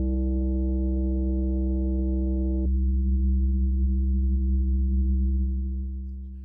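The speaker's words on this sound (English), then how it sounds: "we have a nice tone with some highs and some lows, as you can hear" A steady synthesized tone with stacked bright harmonics, then it abruptly drops to a duller, lower-pitched hum that holds and fades slightly at the end.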